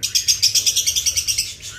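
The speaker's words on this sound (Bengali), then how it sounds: "এই যে আমার বদ্রি পাখিরা দেখো" Pet budgerigars chirp in a rapid, regular series of bright, close tweets, about a dozen quick calls in a row.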